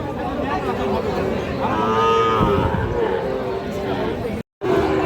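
A cow moos loudly nearby at a cattle market, one long drawn-out call over a busy crowd of people chattering.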